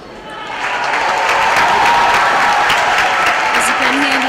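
Crowd applauding at the 2024 East Africa Regional table tennis championship, a sustained wash of clapping that swells after the first second and holds at a steady level.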